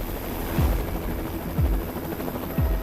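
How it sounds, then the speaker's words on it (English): A helicopter flies over mountains, heard as a steady, distant rotor drone with a soft periodic thump repeating about once a second, with no talking. "Helicopter"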